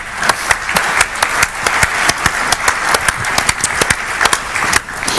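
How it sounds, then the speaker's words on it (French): An audience in a presentation hall applauds after a Windows Server 2012 R2 Hyper-V demonstration, with loud, sustained clapping from many hands and sharp individual claps standing out throughout. "je pense que vous pouvez l'applaudir,"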